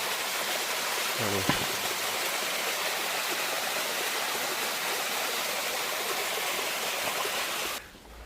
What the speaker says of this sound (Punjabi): ਉਹ ਵਿੱਚੋਂ ਪਾਣੀ ਠੰਡਾ ਡਿੱਗਦਾ